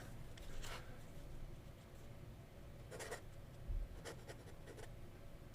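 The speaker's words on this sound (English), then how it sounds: "Yeah, it's kind of a flexy, wet nib. A little scratchy, but lots of fun." An Omega Supernova eyedropper fountain pen with a flexy, wet, scratchy nib writing on paper: soft, faint scratching strokes come in short separate bursts over a quiet background hiss.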